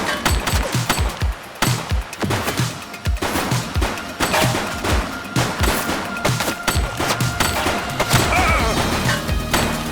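A suspect fires rapid volleys of gunshots in The Precinct video game, sharp repeated bangs with crashing impacts in irregular bursts, loud and close, continuing throughout.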